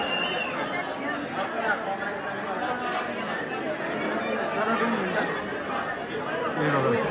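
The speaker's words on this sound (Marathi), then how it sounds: "एवढी गर्दी आहे बापरे, फुल गर्दी आहे." Devotees queuing at Ekvira temple at night fill the air with dense, continuous crowd chatter, many overlapping voices at close and middle distance, with occasional laughter and no pause.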